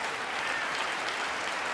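An audience applauds during a State of the Union speech, a brief, fairly faint wash of dense clapping with no voice on top.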